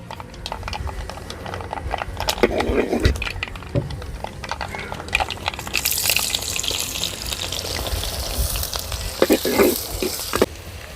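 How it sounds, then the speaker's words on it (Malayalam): Mustard seeds and fenugreek frying in hot oil, a continuous close sizzle with crackling pops and stirring, louder bursts of spattering later on. "ആ കടുകും ഉലുവയും കൂടെ മൂത്ത് വരുമ്പം കടുക് മൂത്ത് വരുമ്പം"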